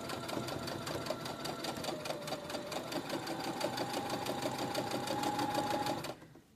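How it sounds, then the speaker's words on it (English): A sewing machine runs steadily, stitching the seam of a pillow cover in one continuous buzzing burst of rapid needle strokes before stopping near the end. "I'm going to continue sewing"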